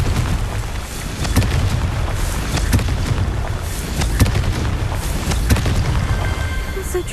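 A Confringo fire spell blasts during a Merlin trial in Hogwarts Legacy, a dense, rumbling burst set in a loud, continuous wash of low noise with sharp cracks scattered through it.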